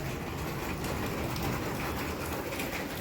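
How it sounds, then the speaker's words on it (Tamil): Light summer drizzle patters on a rooftop garden as a steady, soft hiss of fine rain, continuous and even with no clear individual drops. "ஓரளவுக்கு கொஞ்சம் லைட்டாக சவுண்டு வருது லைட்டான தூரல் தூரிட்டு"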